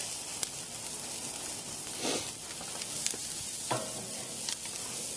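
Marinated flank steak sizzling on a grill, a constant dense hiss and crackle with a few sharp pops and brief louder flare-ups.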